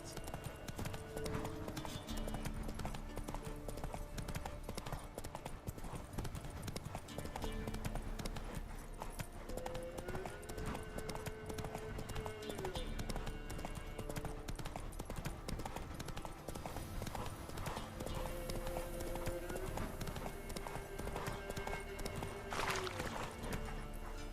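Hooves of a horse galloping in The Witcher 3 give a steady rapid clip-clop with game music and ambience, mostly alone and fairly quiet.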